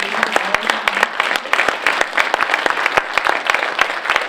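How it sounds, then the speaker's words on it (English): An audience at an African American Read-In gives a loud, dense round of applause, rapid overlapping claps sustained evenly throughout, with a voice briefly audible beneath. "please give us a round of applause for all of our magnificent readers"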